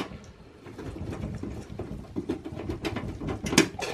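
Thumb screws being undone and a side cover panel handled on a Lenovo ThinkCentre M72e desktop PC, giving scattered close mechanical clicks, scrapes and rattles with one louder clack near the end.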